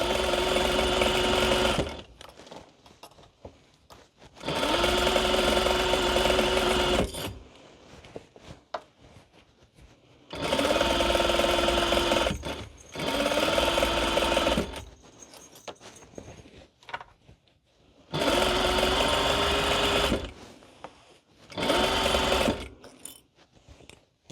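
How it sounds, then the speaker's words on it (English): Sewing machine stitching an infinity scarf: four bursts of a few seconds each of steady, close mechanical whirring, separated by quiet pauses. "Make sure you backstitch at the start and the stop."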